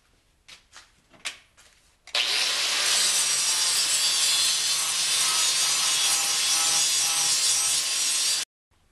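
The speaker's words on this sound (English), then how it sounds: "The newly finished billet is now ground completely flat lengthwise before it is cut into smaller sections to restack and reforge weld." Grinding a Damascus steel billet flat lengthwise: after a few short scraping contacts, a steady, loud, hissing abrasive grind runs continuously for about six seconds, then cuts off abruptly.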